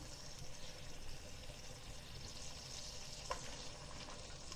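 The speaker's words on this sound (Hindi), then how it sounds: "इसको भी भून लेते हैं अच्छे तरीके से।" Chopped green chillies fry with meat in a pot for gobhi gosht, a steady low crackling sizzle running evenly throughout with a brief clink near the end.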